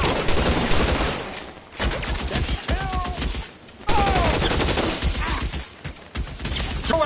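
A shootout in L.A. Noire: loud, dense gunfire in rapid bursts and volleys, with sharp cracks and brief lulls between barrages.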